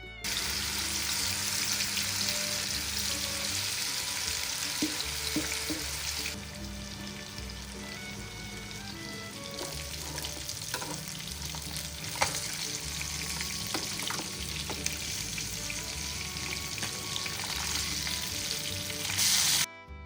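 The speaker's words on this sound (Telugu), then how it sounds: "ఆయిల్ బాగా హీట్ అయ్యాక ఫిష్ని మీడియం ఫ్లేమ్లో 3 మినిట్స్ వరకు, లో ఫ్లేమ్లో 3 మినిట్స్ వరకు తిప్పుకుంటూ ఫ్రై చేయాలి" Spicy masala fish fries in hot oil in a pan, giving a steady close sizzle with scattered crackles and pops. Brief scraping sounds come through as the fish is turned, and there is no talk.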